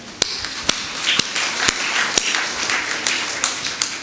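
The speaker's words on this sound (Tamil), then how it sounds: "கைதட்டுங்க" Scattered hand claps from a church congregation, sharp irregular slaps over a steady hiss of room noise, with no voices in the gap.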